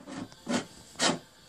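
Metal motorcycle headlight bracket for a Triumph Bonneville Hinckley hardtail being cut down by hand, two or three rasping strokes in a slow rhythm, close and fairly quiet.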